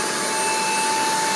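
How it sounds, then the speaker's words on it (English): A Black and Decker vacuum runs with a steady, loud, high whine close by as it sucks up spilled water, with no pauses. "Wow, it just sucked up the water completely."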